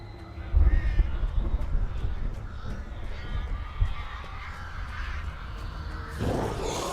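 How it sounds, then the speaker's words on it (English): Crows cawing in the Alan Wake video game, a run of harsh repeated caws over a dense, rumbling game background, with a louder burst near the end. "Birds can't come inside houses."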